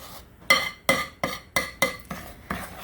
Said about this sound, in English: I think I'm going to go ahead and stir this up